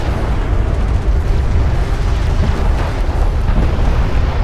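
A siege cruiser blowing up in Homeworld: Deserts of Kharak makes a loud, sustained roaring explosion, thick deep rumble and crackle filling the whole stretch without pause, with no voices.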